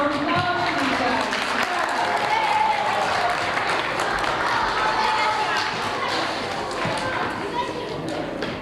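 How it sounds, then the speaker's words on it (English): An elementary school audience applauds students at a reading competition awards ceremony, a steady, fairly loud wash of clapping that holds for several seconds with a faint announcer's voice over it. "Let's have a round of applause for these guys."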